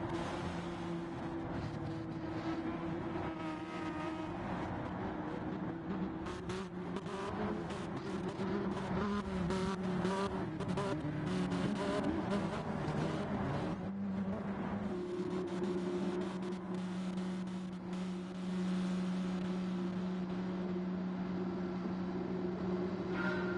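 A Lamborghini race car engine in a racing video game hums steadily with a sustained tone and occasional rattling bursts, and no voices are heard.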